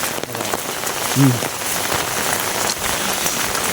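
Steady heavy rain falls on surfaces, a dense continuous hiss that stays loud throughout with no break.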